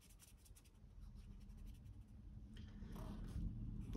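Colored pencils scratch and rub across paper while a mandala is colored in, a soft close scraping in short strokes that grows slightly louder toward the end.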